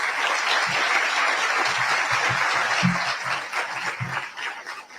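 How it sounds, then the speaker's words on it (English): An audience at a school district State of the District event applauds high school students with a steady, dense wash of clapping that holds for several seconds before tapering slightly. "can we give a round of applause to our students?"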